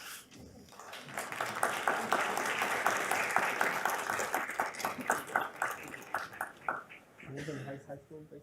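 A school board meeting crowd claps for a student in theater, sustained applause rising and holding for several seconds before thinning into scattered claps, with a voice speaking over it.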